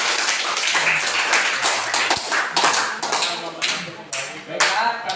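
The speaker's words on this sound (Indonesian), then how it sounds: "kita beri tepuk tangan." An audience claps after a group discussion presentation in a classroom, a steady ripple of hand claps filling about five seconds before tapering near the end.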